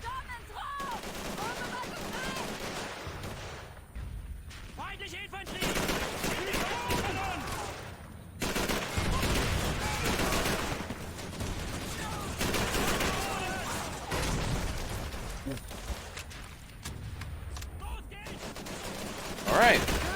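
Call of Duty 3 gunfire rattles in repeated bursts and scattered single shots against German infantry, loud rifle and machine-gun cracks interleaved with a person talking throughout.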